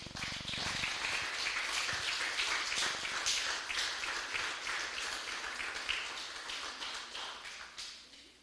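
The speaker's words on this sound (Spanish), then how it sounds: "Denle un fuerte aplauso al Señor, aleluya." Church congregation applauding after a sermon, a crisp burst of many hands clapping close by that thins and tapers off over several seconds, a few individual claps lingering.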